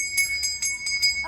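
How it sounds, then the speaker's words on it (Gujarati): A newly hung bell at a stone shrine rings in five evenly spaced, bright metallic strikes, each with a sustained high ringing tone, close and clear. "અને એમને ઘંટી પણ હમણાં લગાવી છે."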